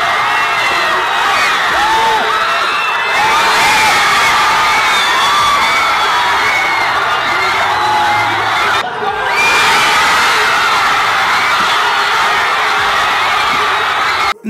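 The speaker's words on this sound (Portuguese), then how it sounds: "Já aproveito para mostrar a reação da torcida coreana nos dois gols" A large crowd of Korean football fans roars and cheers at goals, with loud whoops, shouts and screams swelling in waves, briefly dipping mid-way before erupting again.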